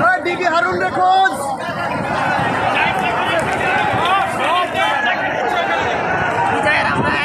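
A dense crowd at a victory procession in the street keeps up loud overlapping shouting and cheering, with chanting voices throughout.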